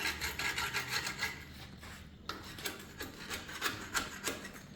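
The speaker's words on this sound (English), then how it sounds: "today I am just starting scraping this, trying to get some of this loose paint off" Scraper rasping over loose paint on a Bobcat 721 skid steer, in repeated close, rhythmic strokes with brief pauses between passes.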